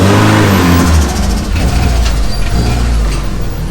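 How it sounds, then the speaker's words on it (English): A Mitsubishi Evo with a new turbo revs close by, loud engine drone with rising and falling pitch and a turbo whoosh, then settling into a steady rumble. "Turbo noises."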